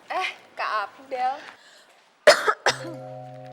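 A girl coughs twice in short, close bursts right after a few words of soft speech, and a steady electronic tone follows.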